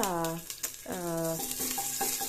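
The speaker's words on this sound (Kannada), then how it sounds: "ಮಸಾಲೆಗೆ ಬೆಳ್ಳುಳ್ಳಿ ಹಾಕ್ಕೊಳ್ತಾ ಇದ್ದೀನಿ" Garlic fries in a pan as masala for horse gram sambar, a steady soft sizzle running beneath a person talking.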